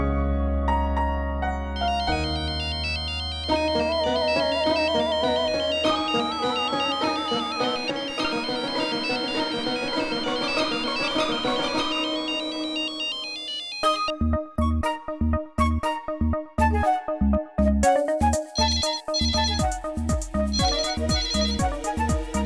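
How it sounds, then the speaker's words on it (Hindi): A phone ringtone plays loudly, a melodic electronic tune that shifts into a brighter, repeating pulsing pattern, continuing steadily with no voices. "नजमा, जाके देखो किसका फोन है"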